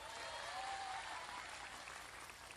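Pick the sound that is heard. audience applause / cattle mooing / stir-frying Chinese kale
audience applause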